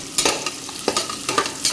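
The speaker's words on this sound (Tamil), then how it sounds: "சேர்த்து நல்லா கிண்டி விட்டுக்கலாம்." Sliced onion and a chopped tomato stirred and sautéing in a pan for a chicken curry, a close steady sizzle broken by rhythmic scraping strokes of the spoon about twice a second.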